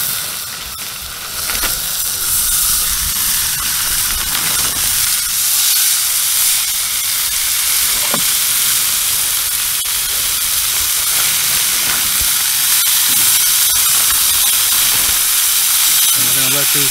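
Steaks seasoned with mozzarella steak seasoning sizzle on a Blackstone 22-inch griddle at a campsite, a steady bright hiss that runs the whole time with faint clicks and a voice talking now and then.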